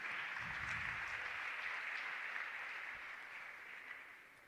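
Faint, distant clapping from an audience at a campus community safety forum launch at Mopani TVET College: a soft, continuous patter that tapers slightly toward the end.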